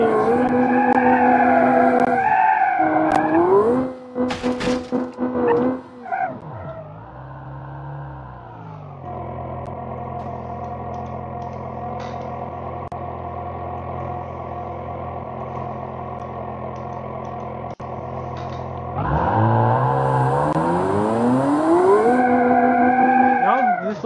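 Drift car in BeamNG, engine revving and swinging in pitch with tire squeal at the start, a choppy burst, then a long steady engine drone before revving and screeching again.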